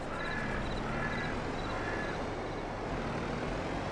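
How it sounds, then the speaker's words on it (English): Trucks driving in the Farming Simulator 25 video game, a steady engine rumble running throughout with faint repeating high beeps and tones overhead. "Trucks driving like crazy,"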